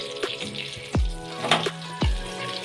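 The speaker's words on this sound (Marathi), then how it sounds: "आता बघूया आपलं वांग थोडंसं फ्राय झालं आहे का" Eggplant (brinjal) slices frying in an oil-filled pan for a masala fry, a steady sizzle with a few sharp spattering bursts, close and fairly loud, no talking.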